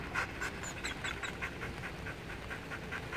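A dog pants quickly and rhythmically during a training session, its breathing close and fairly quiet against a soft background, with a few faint high chirps above it.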